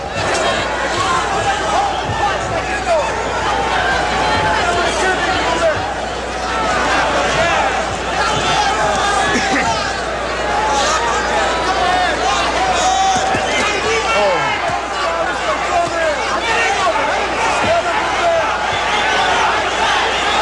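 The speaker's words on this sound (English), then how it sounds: "Listen to the crowd now." Large boxing crowd at a Julio César Chávez vs Ruben Castillo fight roars steadily, a dense, loud wall of cheering and shouting that swells throughout, with commentary voices mixed underneath.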